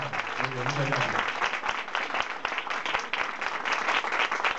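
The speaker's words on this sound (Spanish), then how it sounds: "el que tenga las manos libres y pueda aplaudir acompañar en este momento, por favor" Audience at a diploma ceremony breaks into sustained applause, dense clapping that continues steadily throughout, with a voice speaking briefly over the start.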